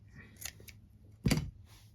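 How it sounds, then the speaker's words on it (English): Scissors trim the top edge of a ribbon while a ribbon bar is sewn: a few sharp, close snips, a light one followed by a louder cut, with quiet handling in between. "just trim the top of the ribbon off"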